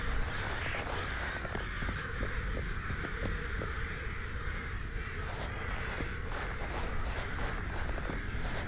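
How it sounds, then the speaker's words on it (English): Crows caw repeatedly in the video game We Were Here Forever, harsh calls recurring over a dense, loud in-game ambience with faint shuffling, and no one speaking. "the crows are here."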